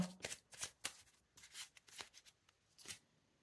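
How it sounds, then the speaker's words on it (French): Tarot cards being shuffled and drawn from the deck, a run of short papery riffles and flicks in quick irregular bursts, close and fairly soft, with no voices. "On va tirer une autre carte."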